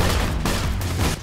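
Rapid bursts of acid-gun fire from the video game Borderlands 2, loud and dense, crackling continuously for about a second before a quick drop-off.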